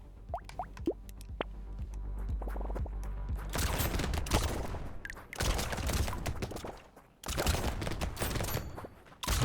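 Shotgun blasts in a video game, several loud bursts after a quiet stretch of small clicks and plops, each blast ringing out broadly before cutting off.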